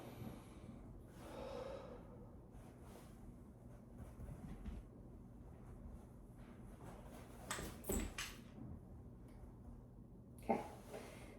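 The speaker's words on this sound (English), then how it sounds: "I'm going to need you to take a deep breath in, exhale, and then hold" A patient in a respiratory assessment draws a slow, deep breath in and then exhales, soft breathy airflow close by in a quiet room, with a few faint rustles and no talking.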